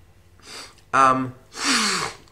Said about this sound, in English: Excuse the sniffing.